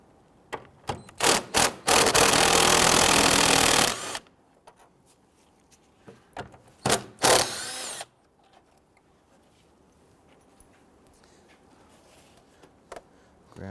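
Loosening and pulling a 10mm engine bolt on a 2011-2017 Nissan Quest 3.5L V6 with the hood open: close, loud bursts of tool whirring, one sustained run of about two seconds and a later shorter burst, set between brief clicks and quiet stretches.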